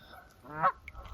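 Geese by a river honk once, a short nasal call at middle distance rising out of quiet outdoor ambience, with faint rustling around it.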